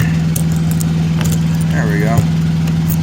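A ring of keys jangles and clinks while a storage unit is being unlocked, the metallic rattles coming in brief bursts close by over a steady low engine idle, with a person talking.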